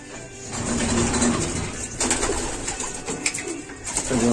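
Racing pigeons coo in a loft, with soft, continuous throaty calls from several birds layered over a steady background hum, close and moderately loud.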